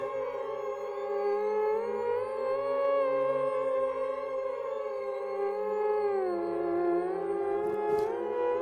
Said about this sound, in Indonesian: anjing saya yang bernama Bono melolong keras sekali.